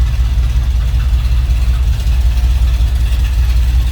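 A 1976 Ford F100 pickup street rod with a 390 V8 and automatic transmission idles nearby, a loud, steady, deep low rumble with an even pulsing beat and no talk.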